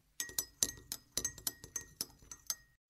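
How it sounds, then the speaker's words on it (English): A metal spoon stirs water with dissolved sugar and salt in a glass, giving a run of bright clinks about ten times in three seconds, close and alone with no talk. "Picture shows a hand stirring the water in the glass with a spoon."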